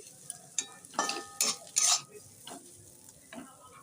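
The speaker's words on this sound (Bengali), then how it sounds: "এই সবজিগুলো একটু কড়াই দিয়ে দিয়েছি।" Mixed vegetables hit a hot Bengali kadai already holding bay leaf, cardamom, clove and cinnamon, giving a few short bursts of sizzle and scraping stirs, loudest in the middle, then a fainter clatter.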